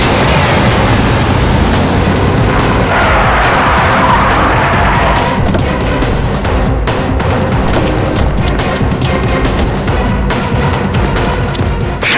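Car tires squeal loudly as a vehicle speeds away after a tire is punctured in a tense crime-drama scene, a sustained harsh screech with engine roar filling the whole stretch, loud and close, no talking.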